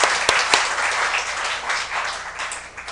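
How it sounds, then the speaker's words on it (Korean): A church congregation claps in dense, steady applause during a Sunday service, with a couple of sharper claps standing out early on before it gradually softens. "다시 한번 박수 드리도록 하겠습니다"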